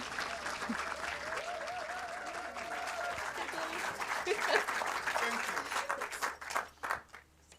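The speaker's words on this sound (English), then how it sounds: "Round of applause, please." Audience applause for an evening host at a Bristol address series event, steady crowd clapping with a voice speaking over it early on, swelling then tapering into scattered claps at the end.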